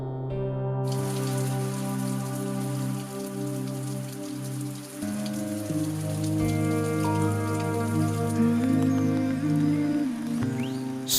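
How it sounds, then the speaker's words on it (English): Rain falls in a Myanmar forest where a troop of stump-tailed macaques shelters under the canopy, a steady dense patter throughout, with sustained musical tones running underneath. "And finally, rain comes to the rescue."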